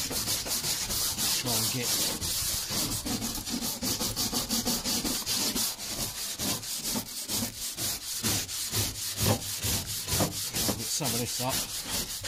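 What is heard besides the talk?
brush scrubbing a roof surface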